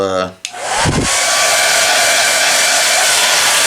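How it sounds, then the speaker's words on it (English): A hair dryer clicks on and blows with a loud, steady whooshing roar that holds constant without a break. "what we're going to try this time is a hair dryer"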